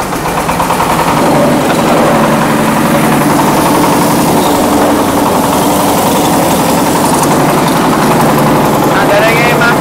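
A MAKTANI rice milling machine runs with its engine going, a loud, close, continuous rattling drone with rapid mechanical chatter, steady throughout with a voice mixed in.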